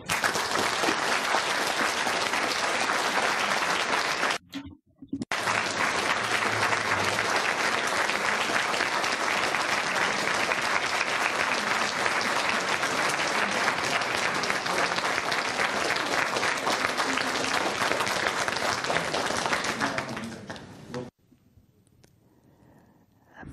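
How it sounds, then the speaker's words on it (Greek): A university audience at Moscow's MGIMO gives a Greek prime minister sustained, lively applause. Dense clapping runs for about twenty seconds with one brief break, then stops abruptly and leaves near silence. "Μετά από τόσο ζωντανό χειροκρότημα,"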